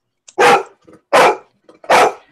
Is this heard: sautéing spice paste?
no